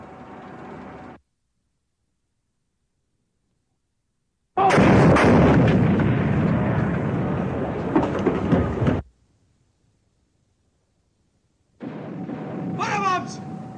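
Depth charges detonate in a 1957 WW2 submarine film, heavy rumbling blasts in separate bursts broken by dead silence, the middle burst long and loud with rattling debris, the last overlaid by shouted commands.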